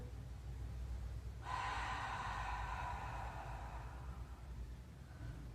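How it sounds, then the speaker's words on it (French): A long, audible breath drawn in during a beginner Pilates exercise on a ball, lasting a couple of seconds over a low, steady background hum. "Encore une fois, j'inspire."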